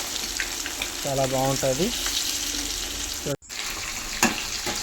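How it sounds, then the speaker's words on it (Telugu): Marinated chicken frying in about half a litre of oil for chilli chicken gives a steady crackling sizzle up close, while someone speaks briefly over it. "ఇలా ఆయిల్లో చక్కగా వేపుకుందామండి"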